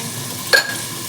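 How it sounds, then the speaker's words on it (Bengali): Water spinach fried with garlic in a pan, a single short stirring scrape with a metallic clink over a faint, steady sizzle, close by and otherwise quiet, no voices. "কলমি শাক ভাজা"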